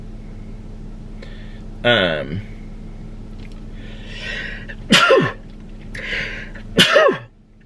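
Three sharp sneezes spaced a few seconds apart, each with a quick inhale and burst, close up against a quiet room hum.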